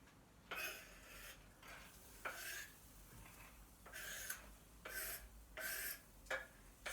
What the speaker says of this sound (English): Starting to sizzle already, and I've spilt some on the cooker, look.